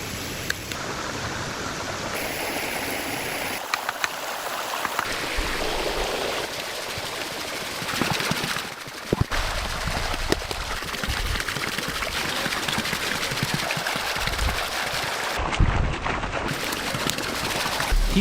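A forest stream flows in a steady, broad rushing wash of water, loud and continuous for the whole stretch with small shifts in texture and no voices.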